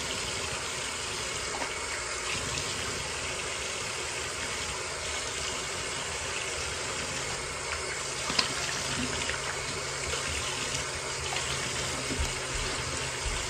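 Water runs steadily from a tap during face washing, a constant hissing splash with little change throughout, fairly faint and without talking.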